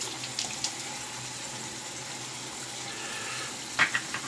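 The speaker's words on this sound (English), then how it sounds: "Get some cool water going." Cool water streams steadily from a faucet, a constant hissing flow heard close up with a few faint clinks near the end.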